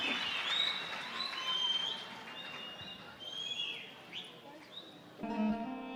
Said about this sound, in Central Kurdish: داواتان لێ کەم چەپڵەیەک کە بەڕاستی شایانی ئەو گروپە بێ